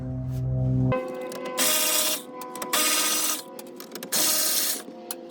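Power tool driving out 7mm screws holding the ashtray in the dash of a 1991 Chevy, several loud whirring bursts with short pauses between them and no talk.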